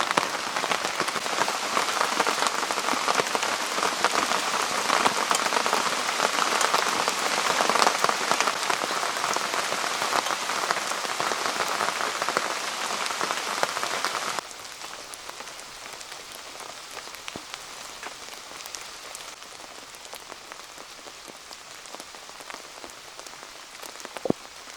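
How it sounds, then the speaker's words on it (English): Heavy rain pours steadily onto a military arctic tent, a dense hiss that drops abruptly to a lighter patter partway through, with no voices. "Proper rain, isn't it, Becky?"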